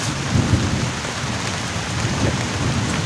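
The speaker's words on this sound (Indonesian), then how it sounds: "Sekarang tuh udah turun hujan, teman-teman." Heavy rain pours steadily on a campsite shelter during a thunderstorm with strong wind, a dense continuous roar with low rumbling thunder underneath throughout.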